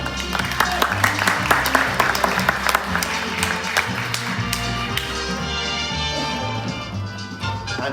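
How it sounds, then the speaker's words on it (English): Audience clapping in a church during an animal blessing service with dogs, steady and fairly loud, with sharp taps over a low background hum throughout. "Let's give a round of applause."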